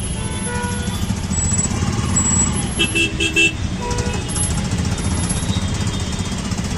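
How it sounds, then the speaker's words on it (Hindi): Heavy road traffic in Mathura forms a dense, constant rumble of engines with several short car horn toots sounding over it from nearby. "यहाँ पे इतना ट्रैफिक रहता है ना मथुरा में बहुत"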